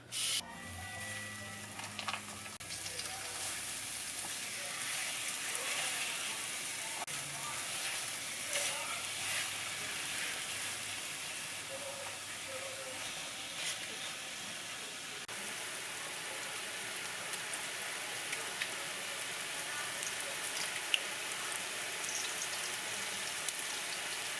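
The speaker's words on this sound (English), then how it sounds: "while your chips are frying over here" Steady crackling hiss of chips frying in hot oil, continuous and moderately loud, with occasional faint clinks.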